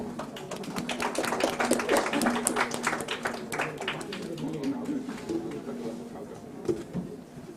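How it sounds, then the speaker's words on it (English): Audience applause at the Nepal Investment Summit 2024, a dense, sustained clatter of many hands filling the hall for the full stretch, fading slightly toward the end, with a voice over a PA mixed in. "Let's give him a huge round of applause,"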